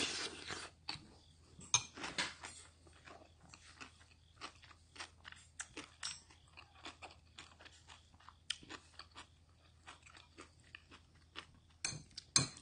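Someone eats curry rice with kimchi, with quiet close-up chewing and crisp crunchy bites repeating irregularly against a near-silent background, and no voices.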